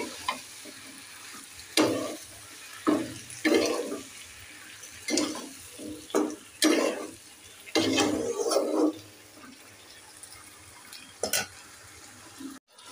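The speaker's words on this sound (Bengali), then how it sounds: "তরকারি কষিয়ে নিচ্ছি।" A vegetable curry is sautéed in a pan, with irregular bursts of loud scraping and stirring strokes over a faint, steady frying hiss between them.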